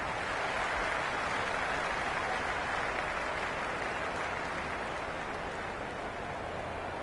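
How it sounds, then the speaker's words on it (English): A cricket stadium crowd cheers and applauds after a good shot, a steady, dense roar of clapping and noise that runs evenly throughout at moderate loudness. "Will you listen to that crowd? They are loving this."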